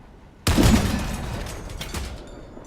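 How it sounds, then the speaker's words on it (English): Vehicle-mounted weapons firing in the Crossout combat game from a heavily armored spider-legged build, a sudden loud burst of rapid shots that continues as a dense barrage, tapering slightly toward the end. "it is going to be a bit of shooting before we cut through some of it"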